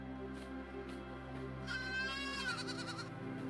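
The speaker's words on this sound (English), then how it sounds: "Sheeps." Sheep in the video game AER: Memories of Old give a wavering, drawn-out bleat in the middle, with a second quavering call following, over a soft sustained game music bed.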